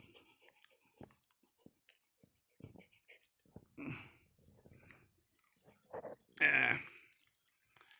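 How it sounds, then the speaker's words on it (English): Dogs moving about a room at home give soft scattered sounds: faint clicks, snuffles and brief chewing or mouthing bursts, with one louder short burst near the end, all quiet and close. "as soon as I start talking, the dogs show up"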